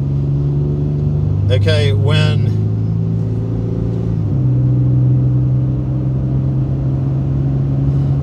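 Steady low engine hum and road rumble from inside a moving car, the drone shifting pitch partway through, with a person briefly speaking over it.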